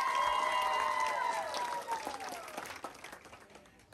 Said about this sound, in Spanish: Por favor, para ella, fuerte los aplausos que se escuchen.